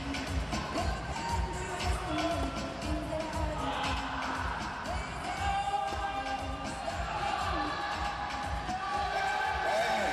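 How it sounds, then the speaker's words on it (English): Crowd at an INTENNSE volleyball match between Georgia and Georgia Tech keeps up a continuous roar and cheer in a large venue, with commentators talking over it throughout. "You hear the crowd starting to pick it up a little."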